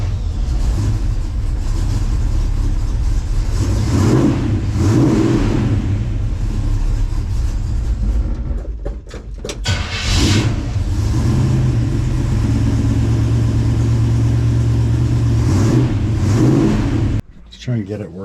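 A 1967-72 Chevrolet C10 truck's engine cranks and starts, then idles and revs in several rising surges, loud and close, with a person talking over parts of it.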